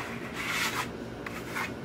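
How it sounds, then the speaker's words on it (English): A trowel scraping across a luster stone decorative plaster finish, burnishing it in steady back-and-forth zigzag strokes, a close, continuous dry rubbing rasp with brief louder swipes. "as I'm doing this, you're going to hear me scraping, and the scraping actually burnishes the luster stone underneath this"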